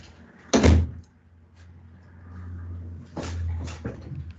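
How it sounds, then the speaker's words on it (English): In a meeting room, a door is closed with a sharp knock and thud, then a second, longer thump a few seconds later. A dog whimpers faintly in the background. "So I'm going to close the door."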